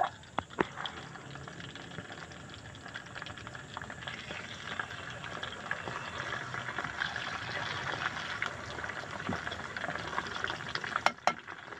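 Food sizzles and bubbles steadily in oil as the last batch fries in a pan, with occasional stirring scrapes and clicks of a utensil near the end, close and continuous with no speech.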